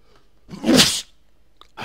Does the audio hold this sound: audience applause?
no